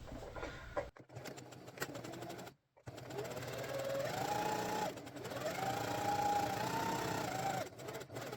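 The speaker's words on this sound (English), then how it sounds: "we're going to start in back stitch and go all the way around, stopping at the end, back stitching" A sewing machine back stitches around a fabric LARP belt favor, its steady motor whir running for several seconds. It stops briefly twice and then resumes, close and fairly loud.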